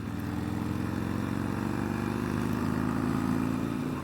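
A 2019 Harley-Davidson Roadster motorcycle rides along with a steady, continuous engine drone and low rumble, loud and close throughout with no talking.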